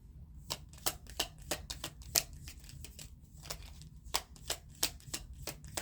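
Tarot cards are shuffled by hand in a quiet room, a rapid series of crisp riffling bursts and sharp snaps, close and distinct, in an uneven rhythm.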